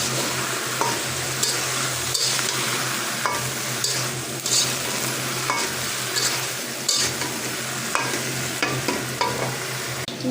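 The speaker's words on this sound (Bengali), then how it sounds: "এখন মশলাটা আমি কষিয়ে নেব এখানে।" Eggplant, potato and tomato fry in spice masala with a steady close sizzle, broken by regular scrapes and taps of a spatula stirring against the pan.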